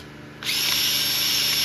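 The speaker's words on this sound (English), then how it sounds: "This drill bit's actually, look, it's small. I'm just using it to walk around, make sure there's no burrs." A small drill bit spins up after a short quiet lead-in, then whines steadily at close range while deburring bolt holes on a Precision Turbos turbo for a 6.4 engine.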